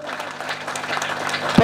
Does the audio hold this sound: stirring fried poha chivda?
no